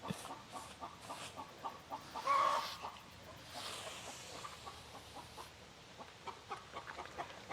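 Outdoors on a farm, a hen gives repeated soft clucks in an uneven rhythm, with one brief louder squawk partway through. The sound is moderately close but fairly quiet overall, and there is no speech.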